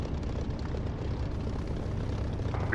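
Propeller aircraft engine in the DCS flight simulator throttling up, a steady loud droning roar that holds constant and close throughout with no voices.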